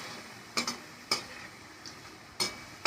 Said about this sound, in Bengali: এই আলু ভাজাটা হয়ে গেলে এর মধ্যে আমি পটলটাও ভাজতে বসাবো